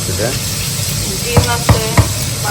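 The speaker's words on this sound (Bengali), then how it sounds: "ওই যে মাছ ভাজি করতেছে" Fish frying in a home kitchen pan, a steady sizzle running underneath with three sharp clatters of a utensil near the end, and a voice briefly heard.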